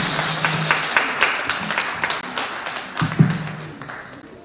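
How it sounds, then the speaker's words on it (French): Congregation clapping and cheering during a church worship service after a healing testimony, a dense burst of applause with sharp claps, a few voices rising over it near the end. "Est-ce qu'on peut acclamer?"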